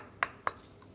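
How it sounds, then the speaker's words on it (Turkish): Two sharp, brief knife strikes on a cutting board, evenly spaced and close by, as ingredients for Turkish Mengen soup are finely chopped; a faint third tap follows, with no talk. "minik minik doğramaya devam."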